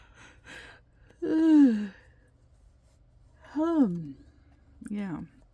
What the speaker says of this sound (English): Sorry about the yawning